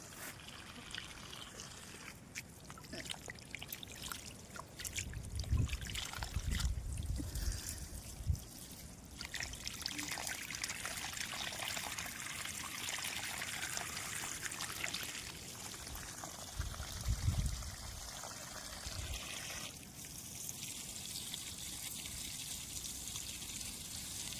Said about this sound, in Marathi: मोटार सुरू केली आहे इकडे पाणी सुरू झालं